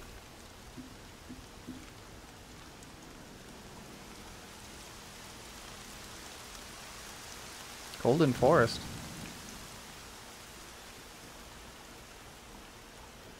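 Steady rain falls across the open world of the video game Horizon Zero Dawn, a soft even hiss running through the whole stretch, with a brief burst of speech partway through.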